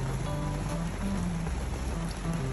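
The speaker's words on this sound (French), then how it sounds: "Merci la pluie." Rain falling on a sailboat moored at Póvoa de Varzim, a dense, even patter with a low rumble beneath and faint tonal sounds drifting through.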